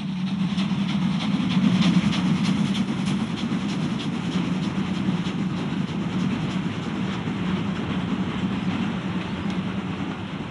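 A heavy BR 44 steam freight locomotive hauling a goods train in the Weserbergland produces a continuous dense rumble and rolling roar, loud and unbroken throughout with no voices.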